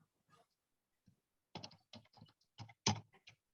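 Keys on a computer keyboard tapped in short uneven bursts while a PowerShell command is entered, close and fairly quiet, with brief pauses between clusters of strokes.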